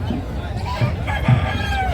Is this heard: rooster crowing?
yes